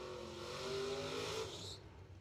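Drag race car launching hard at the New Year Nationals, a loud rising engine roar with a raspy revving edge that builds, then cuts off abruptly near the end, heard alone without commentary.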